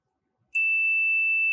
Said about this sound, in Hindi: ये कंपोनेंट मेरे पास अभी बीप दे रहा था